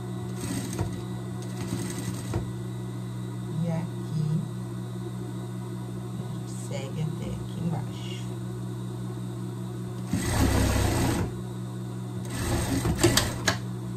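A sewing machine stitches the underarm seam of a pet dress in short bursts, the longest near the end, under a steady background hum with someone speaking quietly between runs.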